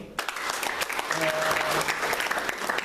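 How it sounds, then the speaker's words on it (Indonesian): An audience at a youth statesmanship discussion forum claps in a full, dense round of applause that fills the whole moment, with a faint voice running underneath. "Kita kasih aplaus."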